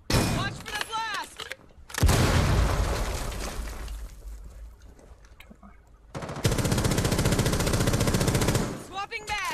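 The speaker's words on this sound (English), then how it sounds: "Watch for the blast!" Explosions and gunfire in the tactical shooter Rainbow Six Siege, with loud broadband blasts in bursts separated by quieter gaps, and voices calling out over the action.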